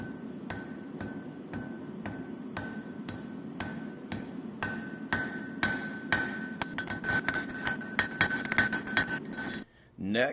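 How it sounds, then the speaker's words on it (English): Steel being hammered to forge a point on a 1084 round bar: a long run of sharp, ringing metallic blows, steady at first and then faster and denser, close and loud over a low roar that may be the forge. "I'll start by forging a point on this rod."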